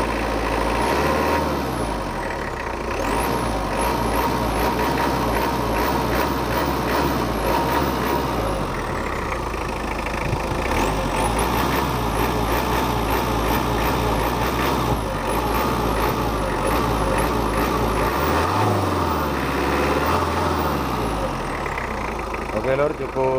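A turbocharged car engine runs steadily and close by, with a smooth, even drone and a faint high whine above it. The turbo is fitted to an engine in less than healthy condition.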